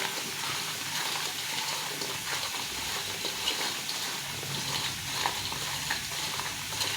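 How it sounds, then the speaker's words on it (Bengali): Raw mango pieces being mixed by hand with mustard oil and salt, a continuous soft, moist squelching and rustling up close, fairly quiet and even throughout. "এর মধ্যে কিছুটা সর্ষের তেল দিয়ে দেবো দিয়ে এটাকে ভালো করে মাখিয়ে নেব"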